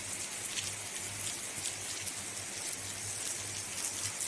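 Steady rain falls outdoors at night in the Jim Corbett forest area, a dense continuous hiss of drops on surfaces that stays even and close throughout, with no voices.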